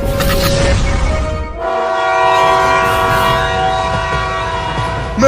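A cartoon train rumbling past with a sustained, loud horn blaring over the clatter of the cars for several seconds.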